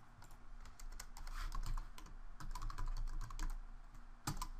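Typing on a computer keyboard while entering LaTeX table commands: quick, uneven runs of light key clicks over several seconds, fairly close but quiet, with a louder tap near the end and no voices.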